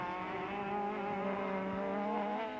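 Touring cars, including an Opel Astra and a Toyota Camry, race around a circuit in 1994 South African championship action at East London, engines droning steadily and loud with layered harmonic whine throughout.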